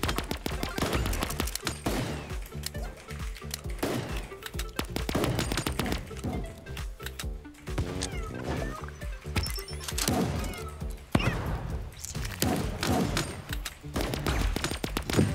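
Pistol shots fired in the Super Animal Royale battle royale video game, dense repeated game gunfire crackling over a busy, loud layer of game music and effects throughout.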